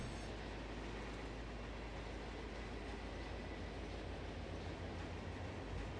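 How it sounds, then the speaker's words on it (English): Low, steady rumble of a train rolling along in the Run 8 train simulator game, a continuous quiet drone with faint rhythmic rail noise and no voices. "Trains move better with the brakes off."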